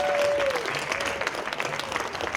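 Steady crowd applause fills a hall for the volunteers at sTARTUp Day 2019, a startup conference, with dense clapping throughout and a brief tone near the start.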